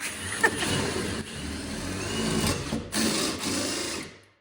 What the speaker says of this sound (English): The 1/4-inch plywood is no match for this dull hole saw.